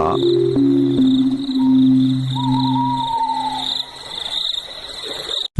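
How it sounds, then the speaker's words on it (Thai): Crickets and cicadas chirp through a forest at night, a steady shrill high buzz with a lower pulsing insect drone underneath, continuous and fairly close, with no voices. "เสียงจิ้งหรีดเรไรดังระงมทั่วทั้งดงห้วยผาเวียง"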